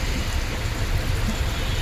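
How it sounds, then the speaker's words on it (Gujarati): Heavy rain pounds steadily on a vehicle during a drive through a highway traffic jam between Bharuch and Vadodara, a dense, continuous roar without a break. "વરસાદે તમે મિત્રો જોવો ને તો ભૂકા કાઢી નાખે એવો વરસાદ છે જોવો તમે"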